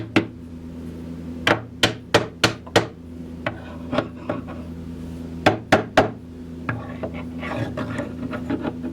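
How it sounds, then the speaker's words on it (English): A hammer taps sharply in quick bursts, five rapid strikes, then a few more spaced hits and lighter taps over a low steady hum. "I'm going to tap those in with the hammer"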